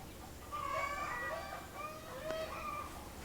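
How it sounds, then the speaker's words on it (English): Several chickens cluck and squawk in a steady, slightly agitated chorus, fairly close, with no talking. "I have some crabby chickens today."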